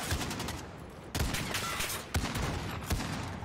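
Gunfire in Call of Duty: Modern Warfare rings out as three loud, sharp reports, spaced about a second apart, each trailing into echo. The shots are up close, with no voices over them.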